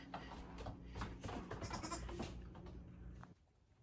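Sheep, including a crossbred dairy ewe of Gulf Coast Native, Awassi, East Frisian and Icelandic blood, bleat repeatedly and close by on a farm, the calls overlapping for a few seconds before fading out.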